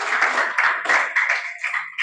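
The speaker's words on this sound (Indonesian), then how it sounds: "tepuk tangan semua ya" Close, brisk hand clapping from a small group of students in a classroom, coming in uneven bursts and fading toward the end.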